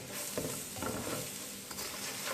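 Onions sizzle and crackle in leftover oil in a pan while masala bhindi is being made, a steady, dense frying hiss with faint stirring scrapes and no voices.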